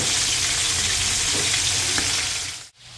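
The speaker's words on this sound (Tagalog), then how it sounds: "Nagpiprito na rin po ng fried." Close, steady sizzling of food frying in oil, continuous and fairly loud, cutting off abruptly near the end before resuming briefly.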